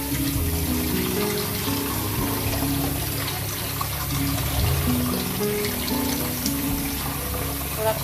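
Tap water runs steadily into a sink while freshly made paneer is rinsed under a cold wash for a malai sandwich dessert, a continuous close splashing flow with no talking.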